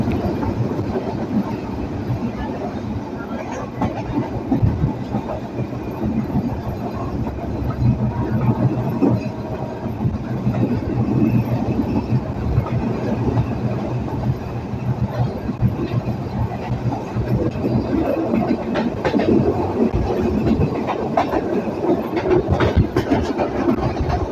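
The Rupsha Express passenger train rumbles along the Parbatipur to Khulna line at speed, a loud, continuous roar with a steady clickety-clack of wheels on track heard from inside.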